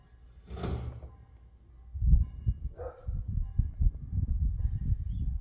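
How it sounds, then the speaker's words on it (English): A short burst of barking from dogs some distance away, followed by low rumbling noise that continues to the end. "Those dogs are barking at people walking by."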